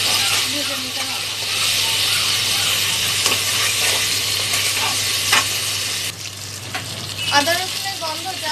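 Ginger garlic paste fries in a pan with a loud, constant sizzle, stirred with scraping and clinking, while someone speaks over the cooking.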